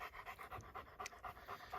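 Stan the dog panting steadily by his kennel on a homestead, a quick rhythmic run of close, soft breaths with no talking.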